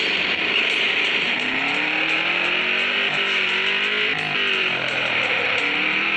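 Car engine driving in the mobile game Extreme Car Driving, a steady loud drone with slowly shifting pitch that holds throughout, with no talk.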